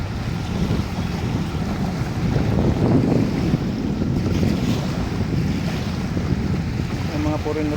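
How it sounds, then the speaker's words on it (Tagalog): Ocean surf washing steadily onto a beach at Dolomite beach, with heavy wind buffeting the microphone and a continuous loud roar throughout. "para maririnig niyo yung hampas ng alon"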